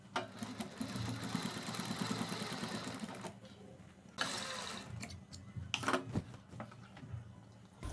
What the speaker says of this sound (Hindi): और जितनी बारीक हमें पाइपिंग निकालनी है उतनी बारीक हम सिलाई लगाएंगे।